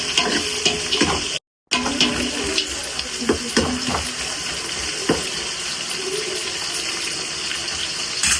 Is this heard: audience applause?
no